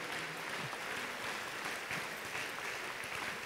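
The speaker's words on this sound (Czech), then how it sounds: "Potlesk pre ďalšiu členku víťazného týmu." An audience applauds a member of the winning team at a 2019 fashion designer competition: a steady, dense wash of clapping that holds at an even level throughout, with no voices standing out.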